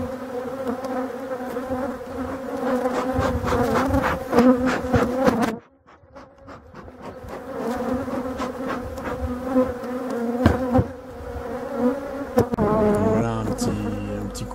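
Honeybees swarm around an opened hive during a honey harvest in Brittany in late August, their dense, steady buzzing filling the air up close, dipping briefly before swelling again, with no voices.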